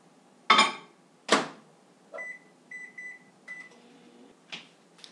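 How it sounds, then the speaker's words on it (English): A microwave oven cooking a chocolate mug cake, with a couple of sharp clunks like a door shutting, then a series of short electronic beeps and a faint low hum, quiet and close. "we're going to put this in the microwave over here"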